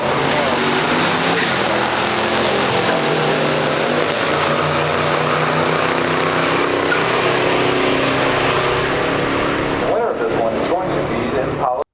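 A 1964 Chevrolet Impala SS with a 327 V8 and a 1979 Pontiac Trans Am race side by side in a pure stock drag race, a loud, sustained engine roar droning throughout and cutting off abruptly at the end.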